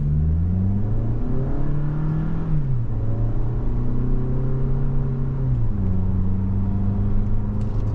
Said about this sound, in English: you're going to get a little noise, obviously, out of the low gears with this inline four